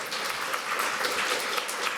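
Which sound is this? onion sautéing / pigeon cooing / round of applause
round of applause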